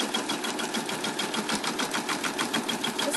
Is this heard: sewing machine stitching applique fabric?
yes